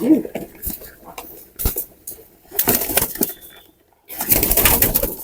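Pigeons at a pigeon house, with soft cooing, wing flaps and scattered bird calls close by among bursts of rustling and handling noise, with brief quiet gaps.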